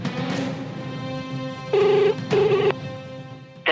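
An outgoing phone call's ringback tone sounds twice, each a steady electronic burst of about half a second, over a low background murmur and ending abruptly.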